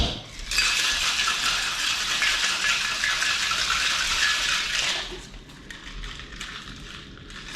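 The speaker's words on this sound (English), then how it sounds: "So equal parts of the vodka and the frangelico. Give that a little shake." Vodka and Frangelico rattle with ice inside a cocktail shaker, a loud, steady burst of shaking lasting several seconds before stopping abruptly, leaving a quieter clinking tail.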